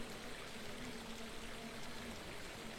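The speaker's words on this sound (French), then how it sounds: "t'as la flotte qui coule en dessous en cascade, c'est juste magnifique" Water cascades steadily beneath a spot in Ankara, a continuous broadband rush with a faint hum underneath and no voices.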